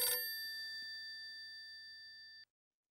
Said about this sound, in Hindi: मेहता साहब का फोन है, बोल देना मैं सो गया हूँ।